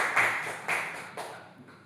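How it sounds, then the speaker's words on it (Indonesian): A few short, sharp hand claps in a classroom, three distinct bursts half a second apart that fade away afterward, with no talking. "boleh tepuk tangan untuk Dani?"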